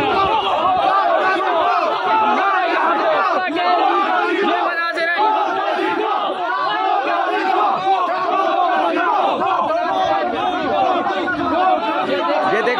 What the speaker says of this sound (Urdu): پی ٹی آئی کے جو وکلا ہیں وہ اس وقت نعرے بازی کر رہی ہیں, شدید نعرے بازی کی جا رہی ہے